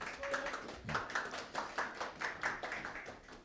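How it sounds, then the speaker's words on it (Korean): A seminar audience claps to welcome instructors at an accounting exam prep course information session, a sparse, uneven patter of individual hands with a brief voice near the start. "박수로 맞이해 주시면 감사하겠습니다"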